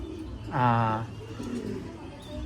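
A single soft coo from a breeder pigeon rises briefly out of a low, steady background hum.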